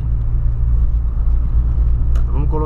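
A car fitted with a large modified exhaust tip idles with a deep, steady low rumble close by, loud and continuous, while someone talks briefly over it near the end.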